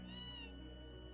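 Cat meowing in the video game Tales of Phantasia: one soft, drawn-out meow over steady, dense background game music.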